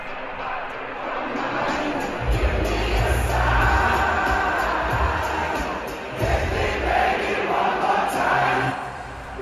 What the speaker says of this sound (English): The second red flag should have been the massive crowd.